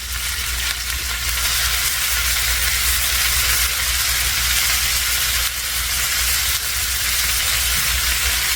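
Corn, pepper and onion sizzling in a skillet, a loud, steady, close hiss of frying that runs unbroken throughout.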